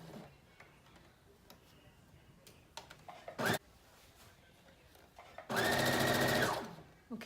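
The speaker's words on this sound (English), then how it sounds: "Back stitch and then continue sewing." A sewing machine stitches a seam on a Simplicity 8637 wrap dress, with short bursts and ticking mechanism sounds early, then a loud sustained run of about a second near the end.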